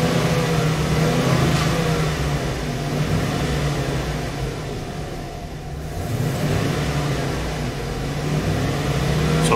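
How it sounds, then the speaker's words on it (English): The 6.0L V8 engine of a Chevrolet Express van, warming toward operating temperature, holds a steady, loud rumble throughout, swelling and easing slightly as it is revved. "I'm gonna give it gas to kind of have the engine reach operating temperature a little faster"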